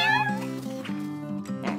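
Several cats meow in a cartoon, drawn-out tonal cries that rise and fall, close and clear over a sustained musical hum.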